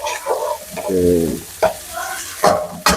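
Onions sizzle and crackle in hot oil, broken by scraping stirs and a couple of sharp clanks of a utensil against the pan.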